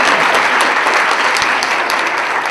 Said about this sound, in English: so let's all give a loud round of applause